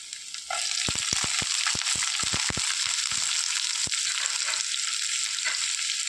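Chopped onion dropped into a hot pan for breadfruit thoran sets off a loud, steady sizzle, with a quick run of scraping clicks from stirring over the crackle and no voices.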